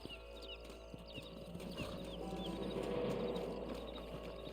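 Several horses stamp and shift their hooves with soft, irregular clip-clop as riders dismount in the Western video game Red Dead Redemption, set against a steady ambient rumble at moderate distance.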